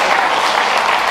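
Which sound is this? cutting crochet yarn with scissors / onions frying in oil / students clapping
students clapping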